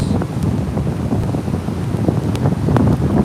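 Strong cold wind at a stormy beach buffets the microphone in gusty, rumbling bursts, a close, continuous roar with possible surf mixed in and no talking.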